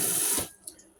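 A kitchen tap runs hard into a sink as rye grain is rinsed, then cuts off abruptly, leaving a quiet splash and drip.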